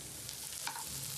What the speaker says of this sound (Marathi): आता बघा हे मसाले गोल्डन ब्राऊन होईपर्यंत आपल्याला भाजायचे होते